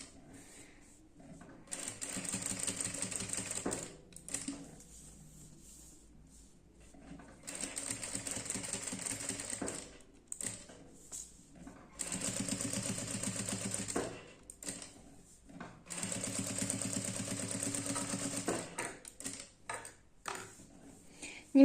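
A sewing machine stitches along the edge of a fabric ornament in straight and zigzag stitch, running in four steady whirring bursts of several seconds each, separated by short pauses with faint handling noise, close up.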